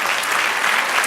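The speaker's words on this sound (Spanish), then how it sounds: "Denle otro aplauso al Señor." A church congregation claps together in steady, dense applause, loud and continuous throughout with no voices rising above it.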